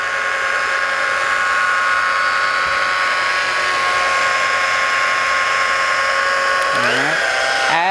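Rotary polisher pad spinning on the paint of a Ferrari 550 Maranello, a steady close whine running throughout, with the pitch dipping and shifting near the end as the tool is worked toward a panel edge.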